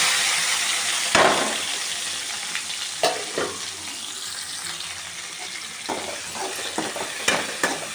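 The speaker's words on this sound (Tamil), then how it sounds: "இப்போ ரெண்டு தக்காளி ரெண்டு வெங்காயம் நல்லா சின்ன சின்னதாக அரிஞ்சு இதில் போட்டு வதக்கிடுவோம்" Chopped tomatoes and onions sautéing in a pan with cumin, a loud continuous sizzle with occasional sharp scrapes and clinks of a spatula, close up, no talking.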